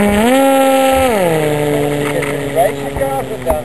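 An RPG Tempest model engine runs on a ground test, a loud, buzzing whine that drops in pitch after a second then holds a steady rasping note, with brief voices underneath near the end.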